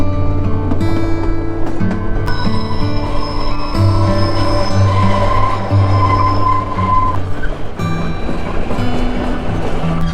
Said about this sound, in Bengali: যখন টানেলের মধ্যে দিয়ে ট্রেনটা যাবে